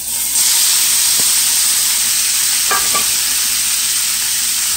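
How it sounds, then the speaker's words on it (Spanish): Chopped fajita beef seasoned with salt and pepper fries in a pan with a loud, steady sizzle and hiss, with a few light clinks of stirring. "ahora voy a poner sal y pimienta y vamos a freír"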